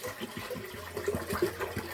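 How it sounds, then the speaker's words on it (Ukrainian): Filtered water poured into a pot makes a steady, moderately loud gush and splash that runs unbroken throughout, with no talking over it. "А сюди наливаю фільтровану воду, за замість крана."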